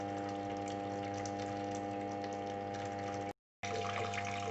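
A continuous stream of water flows under strobe lights as a steady pouring hiss over a constant mechanical hum, broken by one brief silent gap, with no speech.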